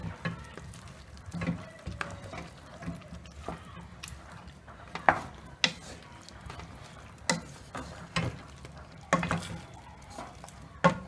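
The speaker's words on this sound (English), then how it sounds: "then you mix it. The curry should mix well with the meat." Beef masala curry with meat is stirred in a pot, a soft steady sizzle with irregular scraping and knocking of the spoon against the pot, fairly close and alone.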